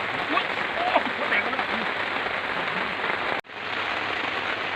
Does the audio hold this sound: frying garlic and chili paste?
no